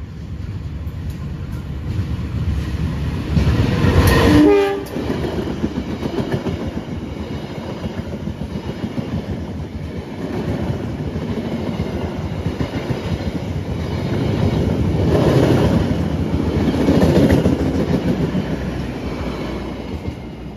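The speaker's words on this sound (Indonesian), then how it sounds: "Nah itu dia kereta api Pandalungan nomor KA77" A passenger train rumbles past on the rails at about 100 km/h with steady clickety-clack from the wheels, loud and close, a brief squeal near the start and the roar swelling again later.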